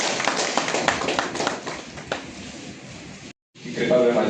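Audience applause at an agricultural schemes review meeting in Kathua, a burst of scattered claps and taps fading into a softer patter, then a brief silence before noise resumes.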